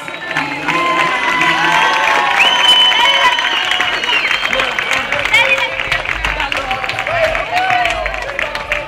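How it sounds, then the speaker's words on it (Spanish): A festival crowd at the Villa Nueva grape harvest celebration in Guaymallén, Mendoza, Argentina, applauding and cheering loudly and close by, with shouts, whistles and voices mixed into sustained clapping. "Y por supuesto, el aplauso de ustedes."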